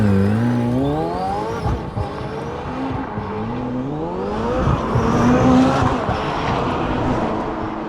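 A hypercar in track mode launches hard from a standstill, its engine note climbing through repeated upshifts with rising and falling pitch sweeps, loud and close throughout with no talk.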